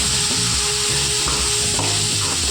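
Masala sizzles loudly in hot oil while being stirred for a country chicken fry, a close, continuous crackle broken by rhythmic scraping strokes of the spoon.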